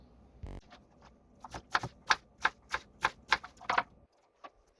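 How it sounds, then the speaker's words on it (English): A knife chops onion and garlic on a cutting board while meatballs are being prepared, giving about a dozen sharp, evenly spaced close taps in a steady rhythm that stop abruptly, with one faint tap afterward and no talking. "I'm going to go ahead and cut up my onion and garlic"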